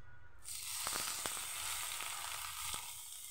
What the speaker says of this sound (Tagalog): ating iprito ang ating pork